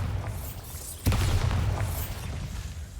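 A Bombarda spell in Hogwarts Legacy lands with a single sharp blast, followed by a loud rumbling roar that lingers for a couple of seconds amid magical whooshing.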